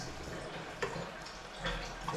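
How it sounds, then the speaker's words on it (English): Tap water runs into a kitchen sink, a soft, steady splashing hiss with a few brief louder spatters, heard alone and fairly quiet. "I'm just gonna let the water run."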